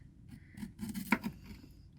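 Knife slicing cabbage thinly for sauerkraut in a tiny van kitchen, a few soft close crunching cuts and scrapes against a board, faint and short.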